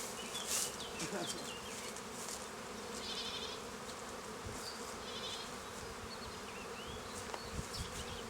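Bees at hive frames hum in a dense, continuous drone, close and steady, with a few individual insects buzzing louder past the ear now and then.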